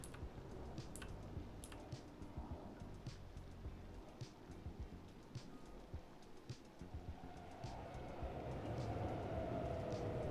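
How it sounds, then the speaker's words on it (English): A subway train passes underneath in the Cities: Skylines 2 city-building game, a faint low rumble that builds toward the end, mixed with soft clicking, distant and quiet with no talking. "we've just passed the subway underneath. Just heard that."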